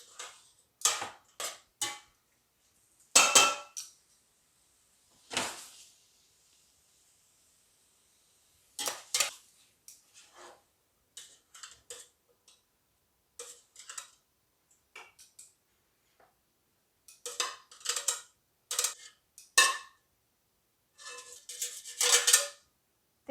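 Carrots tossed with butter in a pan, heard as sparse clicks and scrapes of a utensil against cookware in scattered short bursts, faint and close with quiet gaps between.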